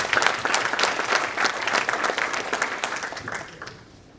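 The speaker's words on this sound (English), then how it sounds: "Could we give him another round of applause?" Sustained audience applause at an investment conference in honour of a speaker, dense clapping filling the room for about four seconds before tapering off near the end.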